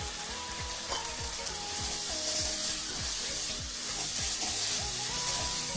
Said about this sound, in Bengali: খুব ভালো করে মিশিয়ে নিচ্ছি গ্রেভির সঙ্গে